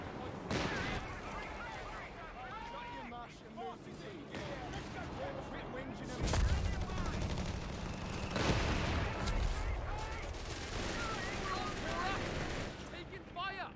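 Gunfire in the strategy video game Company of Heroes 3, with bursts of rapid shots and heavier thumps recurring under frequent voices and unit callouts.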